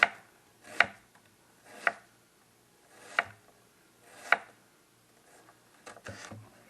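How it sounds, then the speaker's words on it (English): A knife chops onion finely on a cutting board in a quiet cabin kitchen, five or six distinct thuds spaced about a second apart, close and clear with a short burst at the end. "first I'm gonna cut up some onion, fine little chop"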